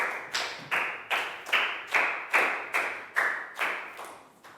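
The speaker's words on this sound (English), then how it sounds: "Big round of applause for Prel" A small class claps for a student in a primary maths lesson, about ten sharp rhythmic claps in unison with a brief decay after each, close and moderately loud, no talking.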